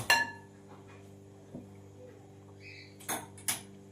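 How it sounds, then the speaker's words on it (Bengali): A metal wok is set down on a gas stove with a sharp clank, followed by a few quieter metallic clinks over a low steady hum from the lit burner. "একটা কড়াই বসিয়ে দিয়েছি, কড়াইটা গরম হয়ে গেছে"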